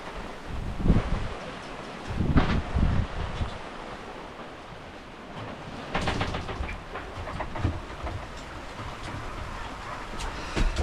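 Wind builds over a sailboat crossing the Atlantic under autopilot, gusting and buffeting the microphone in uneven surges, with rushing water and a rustling hiss between the louder blasts.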